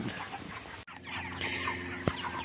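Meat chickens about five and a half weeks old cluck and call in a flock, a busy mix of overlapping bird sounds with a short break and one sharp peak, close by.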